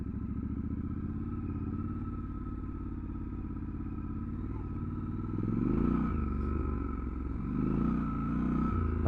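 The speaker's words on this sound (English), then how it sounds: "You feel the traction control coming in there as soon as it starts wheel spinning." A Triumph Scrambler 1200 XE rides off-road through mud, its engine droning loud and close with a steady pulsing note that rises in pitch as the rear wheel spins, joined by clattering and scraping.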